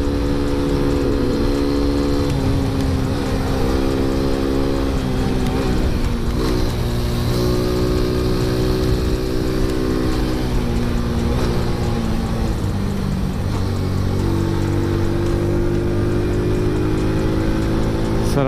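A Suzuki Raider 150 motorcycle accelerating hard up a long uphill country road, its engine note climbing and shifting steadily in a loud, close, continuous drone with wind rush.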